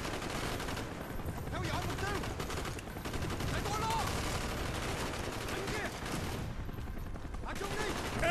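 Bursts of machine gun fire in Call of Duty: Black Ops, rapid rattling volleys with brief pauses between them, set against shouting soldiers and battlefield noise.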